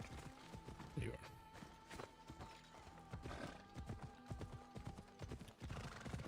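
Hooves clip-clop in a steady rhythm as a horse moves along in Assassin's Creed Odyssey on Xbox Series X, over a busy game soundscape with a low hum and scattered background sounds.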